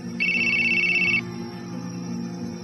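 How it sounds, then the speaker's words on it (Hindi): A mobile phone rings with a bright electronic tone that holds for about a second, then cuts off, leaving a low steady hum behind it. "फोन 4-5 बार फिर से आया।"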